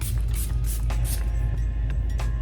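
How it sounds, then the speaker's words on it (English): A dewy finish setting spray is misted onto a face in several quick, close hissing bursts of uneven length over a steady background hum. "I'm gonna use a little bit of a dewy finish setting spray today."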